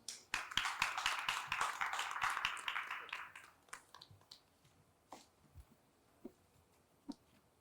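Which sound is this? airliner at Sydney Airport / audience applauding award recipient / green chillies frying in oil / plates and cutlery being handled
audience applauding award recipient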